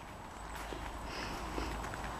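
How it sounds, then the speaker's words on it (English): Horses being led in at the Irish National Stud, a soft patter of hooves on the ground under a broad, steady outdoor wash of noise, close but muffled. "They're bringing horses in now"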